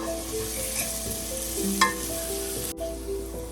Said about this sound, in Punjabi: ਪਿਆਜ਼ ਸਾਡਾ ਭੁੱਜ ਗਿਆ ਜੀ